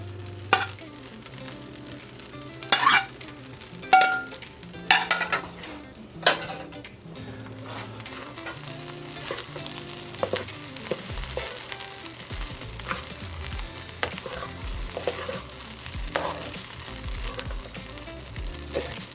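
Egg, sausage and soy sauce are stir-fried into fried rice, with a steady sizzle under repeated metal clanks and scrapes of a spatula against the pan, louder bursts of stirring early on, and no talking.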